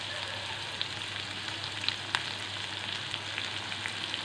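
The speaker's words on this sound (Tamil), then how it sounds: "வெங்காயம் போட்டுடலாம். அப்புறம் பச்சை மிளகாய் போட்டுடலாம்." Chopped onions and green chillies fry in oil in a pan, giving a steady, soft sizzle with a few faint crackles and no voices.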